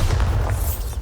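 A short, loud, rumbling boom from a Bombarda explosion spell in the video game Hogwarts Legacy, heavy low-end blast filling the brief moment.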